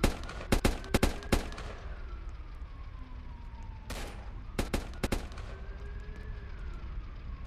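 Gunshots in a Roblox police patrol game: several sharp, close pops come in quick clusters, three or four early and more a few seconds later, over a quiet background with faint tonal hum.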